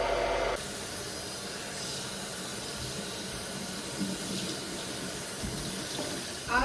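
Shower water running steadily while hair is rinsed, a continuous close spray hiss that shifts slightly in tone at the start and varies a little as the stream is moved, with no talking.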